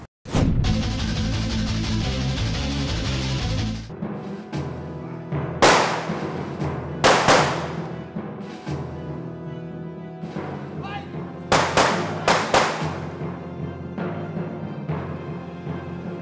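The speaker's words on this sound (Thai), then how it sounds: "ระเบิดที่คุณผู้ชมเห็นมันมีเสียงนะ" Explosions set off during a beauty pageant reality show: several sharp, loud blasts burst out after a stretch of music, a few spaced apart and then a quick cluster of bangs.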